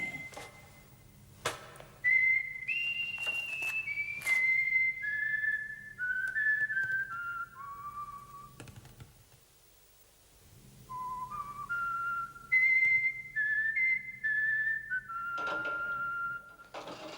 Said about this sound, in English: We have a visitor, a guest, and he's whistling. That's a nice whistle.